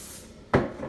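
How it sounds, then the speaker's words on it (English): A single short hiss of cooking spray into a pan, close and fairly quiet, over a faint background. "I'm going to spray it just a little bit so it won't stick so bad."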